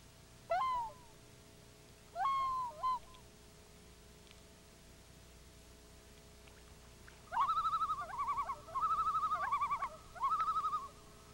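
A distant, echoing common loon call in Baxter State Park, Maine: two short wavering hoots, a pause, then a longer series of tremolo calls across quiet open air.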